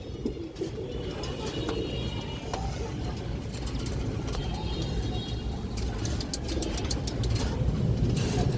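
A large male pigeon coos at a pigeon market, the soft calls set against steady traffic noise and the hum of cars and buses close by.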